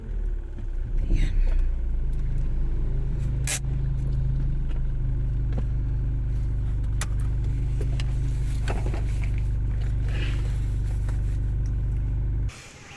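A car engine idles steadily and close by while being parked, a low continuous rumble with brief clicks and shifts, cutting off abruptly near the end as the motor is switched off.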